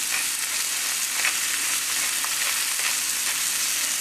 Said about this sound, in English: We're going to add our ground beef and we're going to let that brown